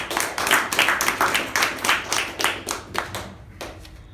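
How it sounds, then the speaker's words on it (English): Clapping at a Toastmasters club meeting, a small group's rhythmic, fairly sparse claps that stay close and then taper off over about four seconds. "a big round of applause for Toastmaster Pavani."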